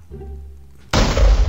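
Slowed-down explosion in the video game Minecraft: a low droning rumble first, then a sudden loud, dense burst of roaring noise that fills the rest of the moment.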